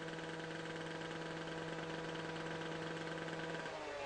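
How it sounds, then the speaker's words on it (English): An abrasive wheel cutting machine's engine idles steadily, a close, constant mechanical drone with a strong low hum that holds evenly for the whole stretch, with no other sounds. "When the machine is idling,"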